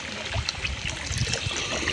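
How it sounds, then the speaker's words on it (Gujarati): Fresh water from a motor-fed pipe runs steadily at a farm, a continuous close trickling and gurgling flow with no speech. "નળી ચાલુ છે, નળીને તાજું પાણી પીએ."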